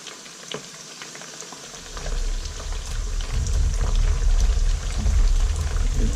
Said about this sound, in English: what I'm going to do now is just add my beef that I've cut up. Ooh, careful the oil, it's hot.